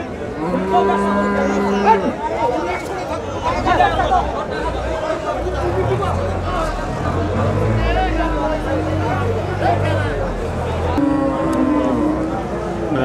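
A large Sahiwal-Friesian cross bull moos in long low calls at a busy cattle market in Nilphamari, with crowd chatter and people talking close by throughout.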